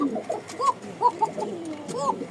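Racer pigeons at a pigeon sale in Mirpur-1, Dhaka, give several soft, close coos in short bursts, with background murmur and other birds around them.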